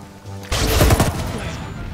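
Explosive mortar or grenade fire in the Ghost Recon Wildlands video game: a loud, dense burst of blasts and crackling impacts erupts after a quieter start, then rumbles on steadily to the end.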